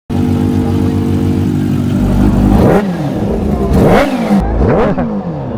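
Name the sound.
Kawasaki H2 Carbon motorcycle engine revving during warm-up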